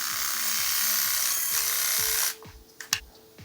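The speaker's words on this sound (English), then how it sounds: "This is the trimmer. So this and this are working." A Philips Series 3000 electric trimmer buzzes steadily at close range for about two seconds, then switches off and leaves a few faint handling clicks.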